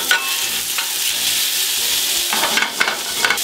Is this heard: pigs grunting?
no